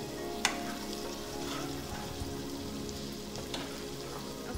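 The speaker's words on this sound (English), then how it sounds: "we have the vegetables still being sauteed, and he's cooking, browning the ground beef." Vegetables sautéing alongside ground beef browning in a pan give a steady, dense sizzle with a couple of sharp utensil clicks, close and continuous, with no talking.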